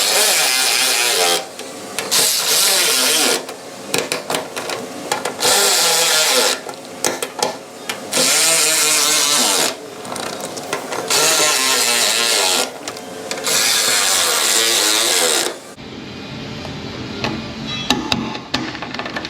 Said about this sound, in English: let's get these guys torqued down to the correct amount of clickages